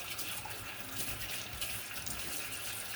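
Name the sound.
cold water running from tap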